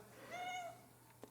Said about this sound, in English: Sorry, that's my cat Cookie.